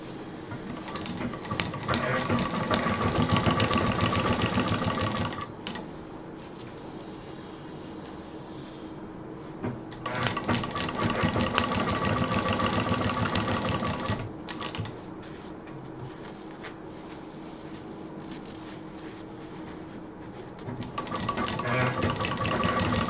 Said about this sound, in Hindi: इसको हम यहाँ से पूरा कवर करके सिलेंगे